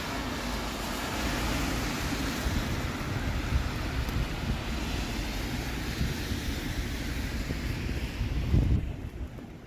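Steady wind roars across a Toronto street on a rainy, snowy Thursday evening, a continuous broadband rush with gusts buffeting the microphone, then dropping off sharply near the end as it calms.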